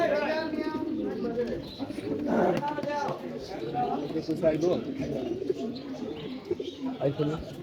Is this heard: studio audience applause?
no